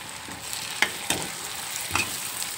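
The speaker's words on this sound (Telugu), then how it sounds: "ఇప్పుడు టమాటాలు వేసి బాగా కలుపుదాం" Onions and tomatoes frying in a pan for an egg and cashew curry, with a steady low sizzle and a few sharp scrapes of a spoon stirring at intervals.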